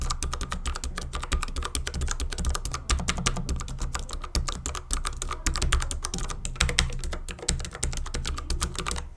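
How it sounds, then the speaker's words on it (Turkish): Rapid, continuous typing on a Xiaomi MIIIW mechanical keyboard with brown switches, dense crisp key clicks in quick succession, close and steady throughout with no talking. "Bu tuş sesi hem oyuncu hem de ofis ortamına ayak uydurabilecek bir tuş sesi"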